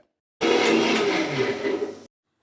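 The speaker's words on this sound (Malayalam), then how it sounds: "മിക്സിയിൽ നല്ലോണം അടിച്ചെടുക്കുക" A mixer grinder blends egg whites with garlic, a loud, close motor whir that starts abruptly, holds steady for under two seconds, dips slightly in pitch and then cuts off sharply into silence.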